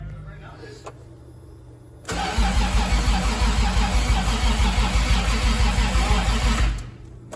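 A Toyota 2JZ-GE engine on a budget turbo build cranks over with a loud, steady rhythmic churning for about five seconds after a quiet start, then stops abruptly.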